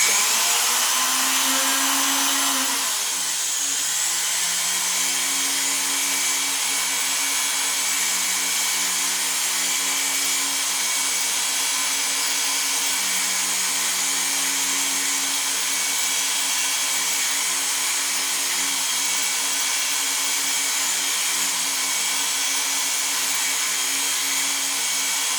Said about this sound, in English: as I'm grinding this rim off the inside